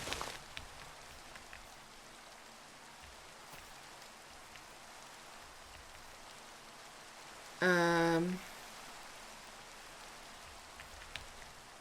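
Steady rain patters throughout as a soft, even hiss, with a brief mumbled voice and a short tonal beep partway through.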